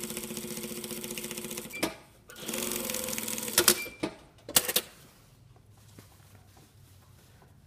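A sewing machine stitches a shirt yoke seam in steady whirring runs, with a short back tack and a few clicks and clunks between bursts before it falls quiet.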